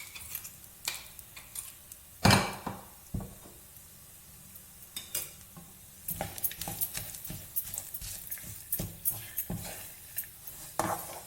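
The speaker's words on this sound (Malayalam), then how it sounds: "ആ മിക്സിയുടെ ജാറിൽ ശരിക്കും സ്പൂൺ വെച്ച് ഇളക്കിയാലേ അത് എടുക്കാൻ പറ്റുള്ളൂ." A spoon scraping and stirring sticky dates stuck inside a mixer jar, giving faint, irregular clinking and scraping taps with one sharp knock early on and quicker clusters of scrapes later, with no voices.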